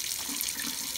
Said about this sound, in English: go over to your tap water and turn it on as hot as it goes